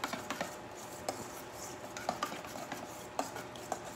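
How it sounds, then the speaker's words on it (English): A spoon stirring olive oil into dairy-free yogurt in a bowl, soft continuous scraping with light clinks of utensil against the dish at irregular intervals, close and quiet, with no talking. "I'm just stirring this together."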